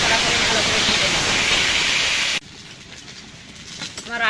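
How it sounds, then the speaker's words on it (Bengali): Potatoes stir and fry in hot oil for a mutton curry, giving a loud, dense hiss for about two seconds before it cuts to a much quieter, softer background. "আলুগুলো নাড়াচাড়া করে ভালো করে ভেজে নেব।"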